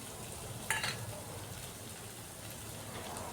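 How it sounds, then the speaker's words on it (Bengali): Tomatoes with salt being stirred and fried in a pan for chicken mince, a soft continuous sizzle with one sharper utensil clink early on, fairly quiet and close, no talking. "লবণ দিয়ে টমেটোটাকে আরও কিছুক্ষণ নাড়াচাড়া করে নিচ্ছি"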